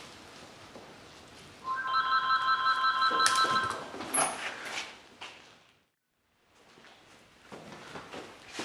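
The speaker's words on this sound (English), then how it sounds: "Phone quits ringing, we'll be okay." A telephone bell rings in a short burst of repeated tones, fairly close and loud, then falls silent before quieter room sounds resume.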